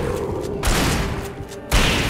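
Shotgun fire in the Alan Wake video game: a couple of heavy, booming blasts a second or so apart, loud and close, over a rumbling background with faint voices.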